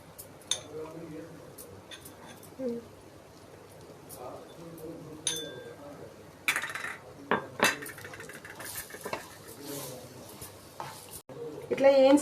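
Dry fruits and fresh dates stirred and roasted together in a pan, with a spoon clattering and scraping against the metal in scattered bursts over a soft background crackle, while a person talks throughout.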